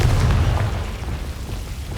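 A Confringo blasting spell explodes in the Hogwarts Legacy video game with a loud, deep boom at the start, then a rumbling low tail that fades slowly.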